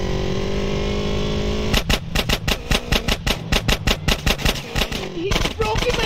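Rapid gunfire from the video game Grand Theft Auto: San Andreas, a quick series of sharp, loud shots in uneven bursts that follows a steady engine drone.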